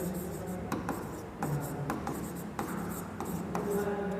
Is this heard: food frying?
no